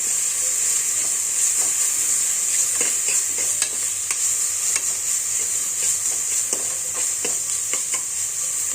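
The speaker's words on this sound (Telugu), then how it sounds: "కొంచెం వేగనిద్దాం" Continuous loud sizzling of tempering spices and coriander frying in hot oil for goat trotter curry, with occasional scraping stirs and small pops.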